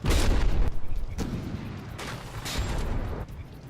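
Heavy cannon fire from warships in a From The Depths battle, a series of deep booming shots about every second, loud and close, with rumbling tails between blasts.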